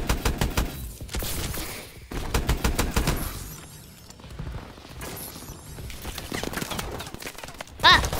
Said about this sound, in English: I'm getting shot at from like five.